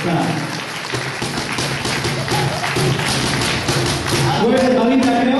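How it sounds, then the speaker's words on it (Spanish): An audience at a municipal tribute to senior citizens in Paramonga applauds for Bombita, steady clapping mixed with taps, thumps and voices, with music or louder voices building toward the end. "Un fuerte aplauso para Bombita, por favor."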